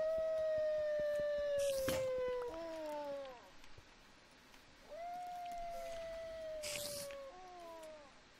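Long wavering howls from wolves in the Minecraft mod Better Than Wolves come in two clear bursts, each a cluster of layered descending calls, fairly loud and unaccompanied by voices.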